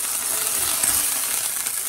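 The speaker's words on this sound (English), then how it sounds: "Let the steak sear." Steak searing in a hot pan, a dense, even hiss of sizzling fat that runs steadily and close throughout with no break or talk.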